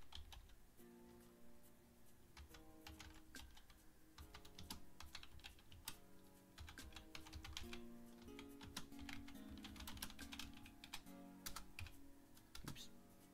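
Typing on a computer keyboard, a quiet stream of rapid clicking keystrokes in irregular bursts, close but faint.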